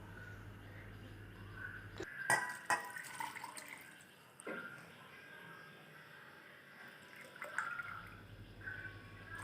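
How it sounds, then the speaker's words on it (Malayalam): Water is poured into a pot of chopped ginger for a home cold remedy, a soft splashing pour with a few clinks, fairly faint against a quiet background. "ഇതിന് ശേഷമാണ് നമ്മൾ വെള്ളം ഒഴിച്ചു കൊടുക്കേണ്ടത്."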